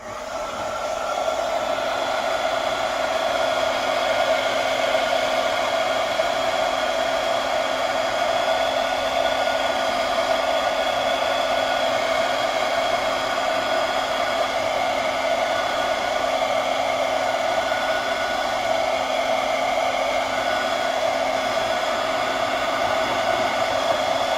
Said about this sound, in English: I'll use the heat gun.